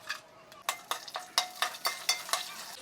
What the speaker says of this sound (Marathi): आता याला मस्त तेलात असं भाजून घेऊया